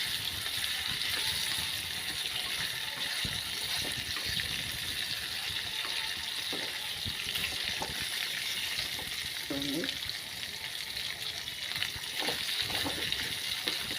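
Dry fish and brinjal curry frying in a pan, giving a steady, close sizzle that stays even throughout, with faint stirring and clinks now and then and no talking.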